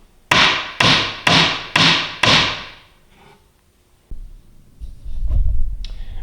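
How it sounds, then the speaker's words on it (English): A hammer pounds a glued oak wooden joint, giving five sharp, evenly spaced loud blows in quick succession. Quieter handling knocks and bumps follow from the workbench. "What I want to do is hold that joint together while I'm pounding, so it doesn't, so the wood didn't separate."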